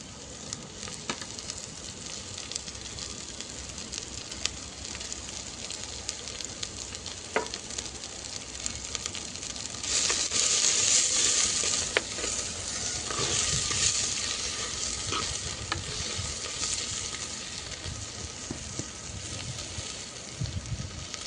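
Green onions sizzle and fry in a pan while cooking kadhi with green pigeon peas, a steady close crackling hiss that swells louder around the middle, with occasional clinks and no talk.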